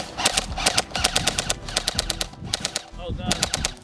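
Lancer Tactical Gen 2 M4 airsoft gun on a 7.4 LiPo battery firing 0.20 gram BBs in rapid full-auto bursts, a loud, fast mechanical chatter with a brief pause near the end before firing resumes.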